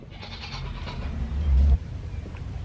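A Nigerian Dwarf goat on a farm gives one loud, close bleat that swells and then breaks off abruptly, with quiet background before and after.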